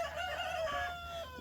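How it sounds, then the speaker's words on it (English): Meat-bird roosters on a backyard homestead crow and cluck excitedly, overlapping calls rising and falling at moderate distance, with no talking. "the rooster boys, the meat birds, are going crazy because they hear me"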